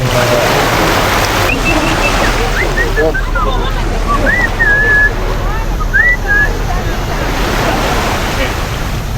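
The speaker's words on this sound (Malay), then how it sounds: "So, inilah suasana dekat Maya Bay." Waves wash onto the shore at Maya Bay in Krabi, Thailand, a loud, continuous roar of surf mixed with wind buffeting the microphone and a few faint whistle-like calls.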